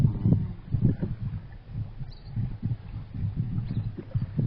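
A boat cruising across the lake toward Neermahal water palace in Tripura makes a continuous low rumble with uneven surges of water and wind noise. It stays steady throughout, with no clear talk.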